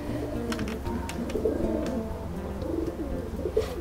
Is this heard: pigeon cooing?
yes